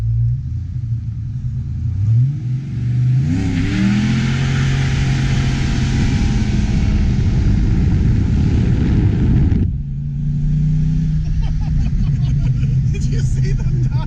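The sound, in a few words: 1992 Ford Mustang GT with catted H pipe driving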